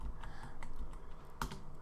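Quick clicking keystrokes on a computer keyboard as a file name is typed in Eagle CAD PCB software, a short irregular burst of close, soft taps with one sharper strike near the end.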